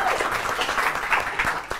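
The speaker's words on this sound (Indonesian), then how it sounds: "Wih, tepuk tangan dulu." Brief studio audience applause during a televised debate show, a short burst of clapping with voices mingled in, moderately loud.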